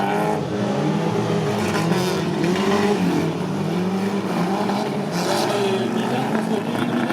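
Race car engine roaring at the start of a race heat, a loud continuous drone with the pitch rising and falling as it accelerates and shifts, close and sustained throughout.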